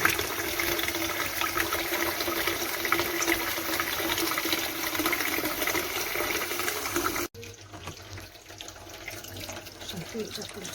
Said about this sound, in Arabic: اخر مره بقى بحط فيه ميه كده عشان يتغسل من جوه كمان